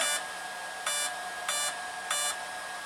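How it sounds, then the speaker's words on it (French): Arrma Vorteks 3S BLX RC car speed controller starting up: four evenly spaced, bright electronic beeps, each short and clear, sounding close in otherwise quiet surroundings. "il compte bien les bips, il valide"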